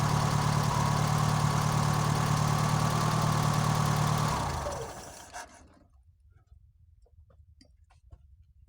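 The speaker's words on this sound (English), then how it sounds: "so your car's just running cold" Car engine running cold after a cold start with no choke, idling steadily with a close low drone for about four seconds, then shutting off and dying away into near silence with faint scattered clucks.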